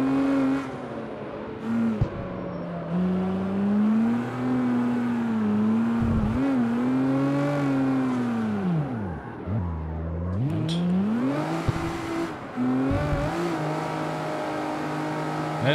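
A car drifting in the street racing video game CarX Street, its engine droning and revving up and down through long slides, with brief drops and surges in pitch as the throttle is lifted and reapplied.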